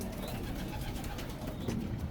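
Pigeons coo softly in a loft, including an old racing bird nesting in a box, with low murmuring calls and faint background noise.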